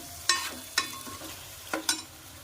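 Green chilli chicken cooks in a pan with a little water under a low sizzle, punctuated by four sharp spatula scrapes and clacks at uneven intervals.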